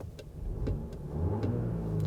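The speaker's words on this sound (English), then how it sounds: "Car is pretty eager to rev out there." A 2021 Audi A6 engine revs while driving, a steady low mid-range drone that rises slightly and sits fairly quiet under faint cabin ticks.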